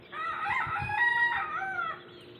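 A rooster crows once nearby, a loud drawn-out cock-a-doodle-doo lasting about two seconds, with quiet outdoor ambience around it.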